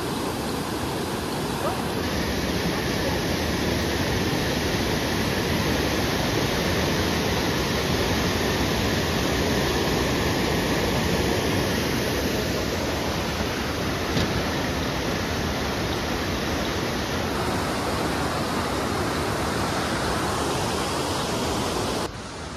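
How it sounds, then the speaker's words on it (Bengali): A waterfall at Lingthem, Sikkim, roars as a dense, continuous rush of falling water, loud and steady throughout with nothing else breaking through. "শুধু আওয়াজটা শুনুন ঝর্ণার"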